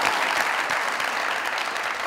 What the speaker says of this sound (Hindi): भाभी के लिए तालियां जोरदार दीजिए।